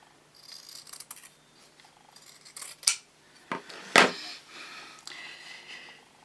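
Scissors snipping through fabric for a patchwork quilt block, several crisp cuts with two sharp, louder snips standing out, close and alone amid soft handling rustles.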